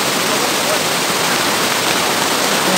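Dense, steady rush of flowing water, like a stream or small cascade, loud and continuous with no pauses.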